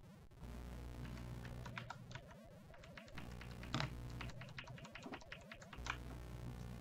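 Quiet, irregular tapping of keys from the typing pool room in the Commodore 64 game Impossible Mission, clicking in uneven clusters over a steady electronic hum.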